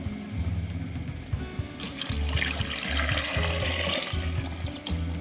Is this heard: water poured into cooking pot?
yes